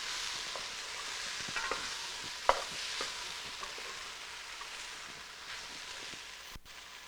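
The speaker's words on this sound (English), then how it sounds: "I'm going to put a little bit of that, stir it in here." Flour is stirred into a mushroom stew in a pot, making a faint, soft stirring and gentle bubbling with a few light clicks.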